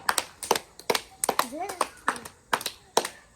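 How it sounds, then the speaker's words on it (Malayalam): Sharp, irregular hand claps repeat through the clip while children's voices chatter and call out over them. "കൈയടിക്കടാ"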